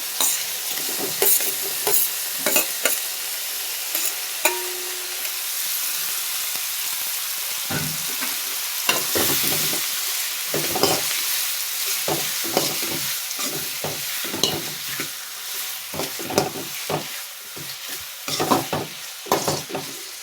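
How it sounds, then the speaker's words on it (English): Tomatoes fry in a pan for chana masala, a steady sizzle broken by repeated scraping stirs of a spoon, close and loud with no talking. "இப்போ தக்காளி போட்டுக்கலாம் ஃப்ரெண்ட்ஸ்."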